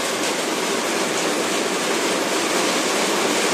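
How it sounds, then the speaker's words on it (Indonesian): Heavy rain pours down as a dense, steady roar of broadband noise that stays loud and unbroken throughout, with no other sounds standing out. "Nah, hujannya besar banget."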